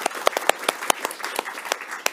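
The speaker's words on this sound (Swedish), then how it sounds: "nu får de applåden tycker jag" Audience applause after a talk at a networking meeting on carbon capture, a steady patter of individual hand claps from a modest indoor crowd, fairly close and with no voices over it.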